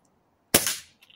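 A single sharp, close shot from an SMK Victory PR900 air pistol fired at a target: a crisp crack with a short decaying tail, followed by a faint click.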